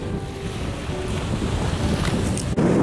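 On the seaside at Kan'onji, strong wind buffets the microphone over the steady wash of ocean waves, a constant loud roar with no speech.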